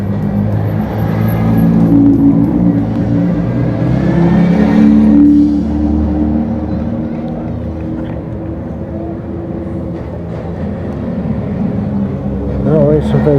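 Cars at a rally in Northern Italy, engines revving and droning loudly at close range with rising and falling pitch as they pass, heard under ongoing talk with a brief whine near the end.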